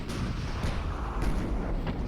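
Naval guns fire in the Ultimate Admirals: Dreadnoughts battle of Tsushima, several booming shots spread over a heavy rumble, with sharp reports near 0.1, 0.6, 1.2 and 1.9 seconds.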